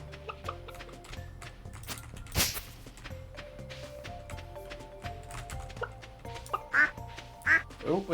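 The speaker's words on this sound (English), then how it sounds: "Oh, we got a duck." A farm duck in Stardew Valley gives soft, scattered quacks mixed with other small farm creature noises over a quiet game music backdrop, with a few louder calls near the end.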